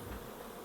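Honey bees buzzing around an opened hive frame box in Samarkand, a faint continuous hum with no voices.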